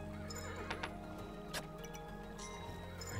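In the video game Kingdom, a horse gives a loud, shrill whinny over a steady run of clip-clopping hooves and a low ambient game drone, with no speech.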